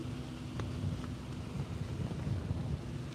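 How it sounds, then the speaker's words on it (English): Strong wind of about 30 to 35 knots roars steadily across the water during a slalom windsurf race, with buffeting gusts rumbling into the microphone from a boat on the course. "We've got about 30, 35 knots of wind."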